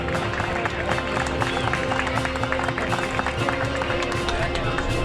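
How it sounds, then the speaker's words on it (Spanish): Steady, dense clapping from an outdoor crowd at an Andalusian trial motorcycle championship awards ceremony in Posadas, honoring the youngest riders, sustained for several seconds with a faint hum and murmuring voices underneath. "Enhorabuena para ellos y un fuerte aplauso."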